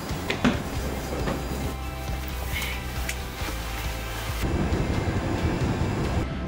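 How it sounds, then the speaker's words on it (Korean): A double-decker train rumbles in as it approaches, a low rolling drone with faint rattling clatter, heard from a moderate distance with no voices. "저기 열차가 오고 있습니다."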